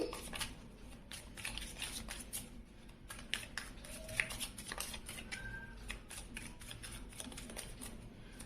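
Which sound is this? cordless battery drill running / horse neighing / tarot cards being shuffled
tarot cards being shuffled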